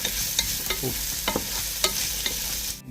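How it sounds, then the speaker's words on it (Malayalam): Green chili, curry leaves, garlic and chopped onion sauté in a pan, with close scraping stir strokes clicking over a soft, steady sizzle. "ബാക്കിയുള്ള പച്ചമുളകും വേപ്പിലയും വെളുത്തുള്ളിയും പിന്നെ കുറച്ച് സവാള അരിഞ്ഞതും ഇട്ടിരിക്കുക ഇതൊന്ന് നന്നായിട്ട് നമുക്കൊന്ന് വാട്ടിയെടുക്കാം"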